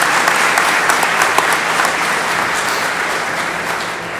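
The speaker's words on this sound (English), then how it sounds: "Another round of applause for Mr." An audience at an annual partnership meeting gives Senator Payano a sustained round of applause, dense overlapping clapping that holds steady and slowly fades, with no talking.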